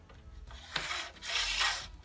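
An anti-lift clip slides along the end of a roller shutter slat, giving two soft, close scraping rubs, the second longer and smoother than the first.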